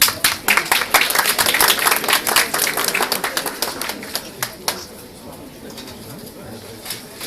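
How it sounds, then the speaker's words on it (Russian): An audience claps in a burst of applause that gradually thins out and fades to scattered claps and room noise. "Ваши аплодисменты, Андрей Булов."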